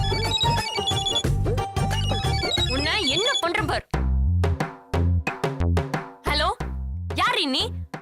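A telephone ringtone plays loudly in a Tamil TV serial scene, a melodic repeating tone heard at the start and returning in bursts while people talk over it.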